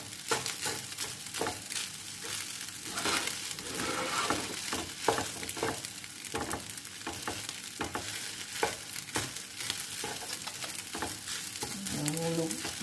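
Fried rice being stirred and fried in a pan, a continuous sizzle broken by frequent scraping, rhythmic spatula strokes over about thirteen seconds.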